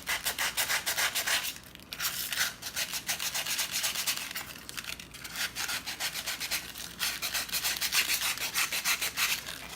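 Steel headlamp part from a Willys MB / Ford GPW jeep being rubbed to remove light oxidation, a steady rapid back-and-forth scrubbing rasp with brief pauses, close and prominent with no talking.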